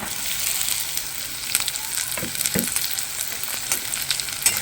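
Vegetables for spicy pasta sizzle steadily in a pan, with a few scraping stir strokes over a constant close frying hiss and no speech.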